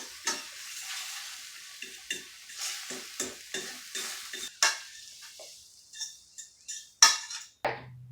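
Eggs stirred in a frying pan over low heat, with a soft steady sizzle under a run of light scraping strokes and a sharp utensil clink near the end.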